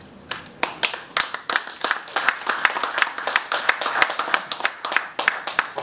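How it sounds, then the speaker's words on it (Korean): Audience in a lecture hall applauding a judge's talk: a steady run of sharp hand claps, moderately loud and fairly close, continuing for several seconds with no speech over it. "어느 분께서 먼저 박수를 치시나 하고 보고 있었는데"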